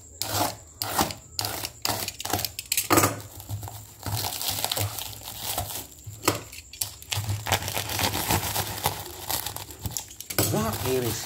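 Plastic packaging around a compressor hose crinkles and rustles as it is unwrapped up close, with sharp tearing bursts and a voice speaking over parts of it.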